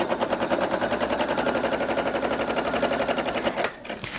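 A home sewing machine runs steadily, stitching shirring on a summer dress with a fast, even mechanical rattle close by, slowing and stopping near the end.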